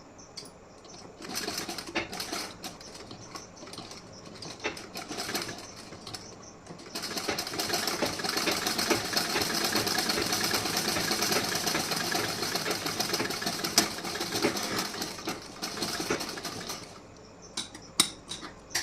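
A sewing machine stitches blouse fabric, starting with short stop-start bursts and then running in a long continuous whirring stretch before slowing into brief bursts again.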